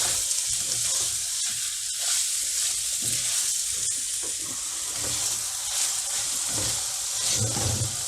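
Masala with tomato paste fries in a pot for lamb jalfrezi, a continuous close sizzle with occasional scraping stirs.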